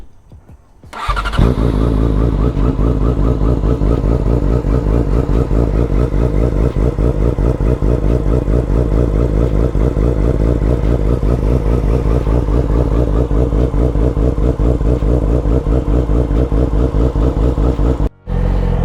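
A Yamaha R6 motorcycle engine cold-starts after a brief crank, then settles into a loud, steady, close idle with a fast even pulse that runs uninterrupted, with one momentary dip near the end.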